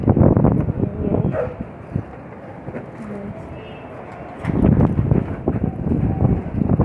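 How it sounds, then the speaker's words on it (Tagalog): Strong gusts buffet the microphone in loud rumbling bursts, easing off briefly before surging again, with a voice talking at times. "Sobrang lakas ng hangin"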